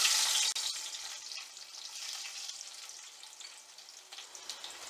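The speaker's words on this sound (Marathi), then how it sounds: "आता या तेलामध्ये आपण ठेचलेली जी लसूण आहे" Crushed garlic sizzling in hot oil in a pot, a bright steady crackle with a clatter right at the start, softening slightly but continuing throughout.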